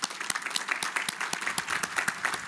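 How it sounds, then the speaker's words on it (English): Commencement audience of family and friends applauding graduates, a brief steady patter of many hands clapping at moderate volume, with distinct sharp claps popping out of the crowd. "So if I can add just one round of applause from all of us, family and friends, to the graduates."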